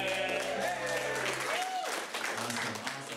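A comedy show crowd applauds the keyboard player, sustained clapping that continues after a host speaks over it, with brief keyboard notes sounding underneath.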